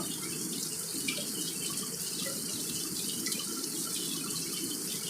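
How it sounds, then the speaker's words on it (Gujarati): Heavy rain pours down in a village, a dense, even hiss of falling water that holds steady throughout without pause. "વરસાદ તો જામ પડતો"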